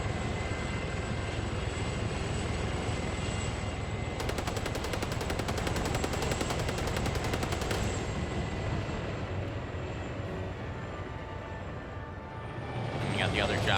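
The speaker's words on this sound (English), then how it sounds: "We can still have the chain gun working. Because now he's going to start going around and doing random gun runs." A helicopter's chain gun rattles in rapid bursts during gun runs in a video game. A steady rotor and engine drone runs underneath, and a dense, continuous stretch of fire sits in the middle of the clip.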